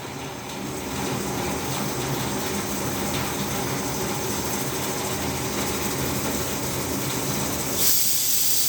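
A pressure cooker whistle vents a steady, loud hissing jet of steam continuously, with a brief sharper burst near the end.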